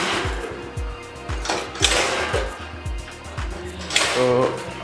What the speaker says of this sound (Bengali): এখন দেখতে পাচ্ছেন যে মেশিন চালু হয়ে যাচ্ছে।